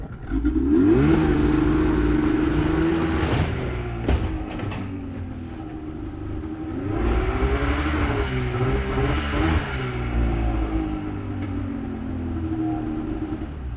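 A snowmobile engine idles and revs steadily outdoors, a loud continuous motor drone with rising and falling pitch swells, heard alone without voices.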